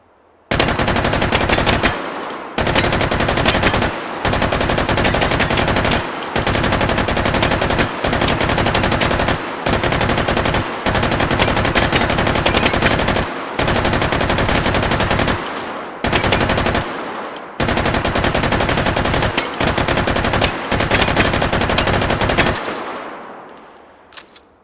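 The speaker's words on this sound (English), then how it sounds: "cock it off with the safety, and let's empty the mag" An automatic gun in the VR game Hot Dogs Horseshoes & Hand Grenades fires long, loud, rapid bursts close up, broken by short pauses, until the magazine runs dry and the sound fades.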